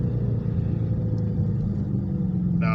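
A Dodge Challenger 392 pulls away at part throttle in track mode on a back road, its V8 giving a continuous close, deep rumble throughout.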